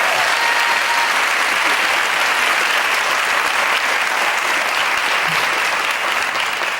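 Dense, sustained round of audience applause filling a conference hall during an opening plenary session of a dance organization, steady and loud throughout without a break.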